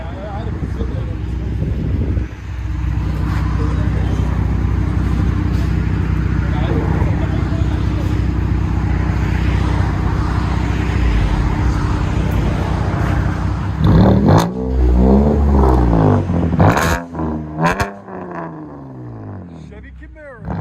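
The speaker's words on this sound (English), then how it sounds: "True dual straight pipe. It's so loud." A 2018 Chevy Camaro RS V6 with true dual straight pipe exhaust roars loud and close, a sustained heavy idle swelling into sharp revs near the end, with wind buffeting and people talking over it.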